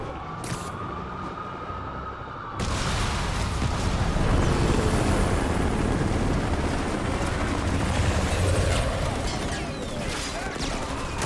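Helicopters thunder in Marvel's Spider-Man Remastered video game, a sudden loud rotor roar kicking in after a brief quieter opening and holding steady, dense and close, with other action noise mixed in.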